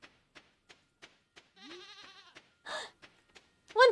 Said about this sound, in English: Wonderful goat noises.